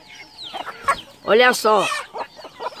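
Frizzle chickens with reversed, upturned feathers cluck and call on a rural farm, a few loud squawks among softer clucks, with a person talking briefly nearby.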